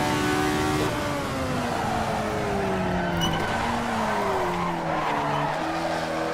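Race car tyres squeal and lock up under hard braking in a racing video game at Laguna Seca, CMS Historics, heard as a sustained screech with sliding tonal pitch over a steady engine drone, loud and continuous throughout.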